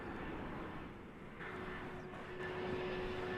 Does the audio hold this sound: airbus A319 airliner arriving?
yes